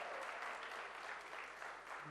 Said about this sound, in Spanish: un gran aplauso al futuro profesor de historia